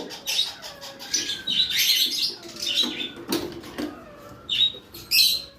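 Small caged birds kept for sale give sharp, high chirps and tweets in quick irregular bursts, close and fairly clear over a quiet background.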